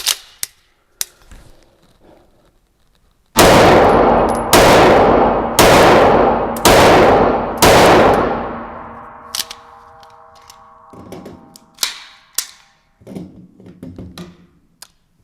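Five loud, evenly spaced shots from a Staccato P pistol fired at a target, each a sharp crack with a ringing tail, followed by faint metallic clinks and handling noises.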